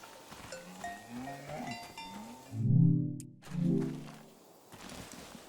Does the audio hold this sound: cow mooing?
yes